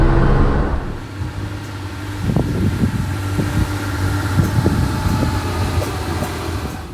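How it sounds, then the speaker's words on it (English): A 1970 Porsche 911T, about fifty years old, runs outdoors with a steady, loud engine drone and low rumble that holds evenly throughout, with no voices over it. "But you gotta just listen to the noise of the engine, not me."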